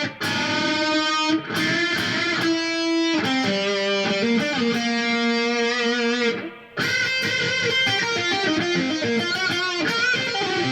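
Electric guitar plays a solo in a loud, sustained, distorted tone, with unison string bends and a short break partway through.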